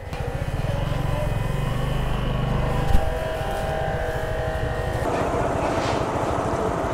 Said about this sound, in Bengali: আমার বাইকটা এখন ট্রায়ালের জন্য নিয়ে যাওয়া হচ্ছে।